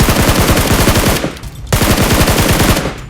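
Rapid automatic gunfire in PUBG Mobile, loud and close, with a sustained burst, a short gap, then another long stream of rattling shots.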